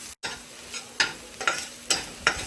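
Shrimp sizzles in a pan with green onions, a soft steady frying hiss punctuated by several sharp scraping stir strokes at a fairly regular pace.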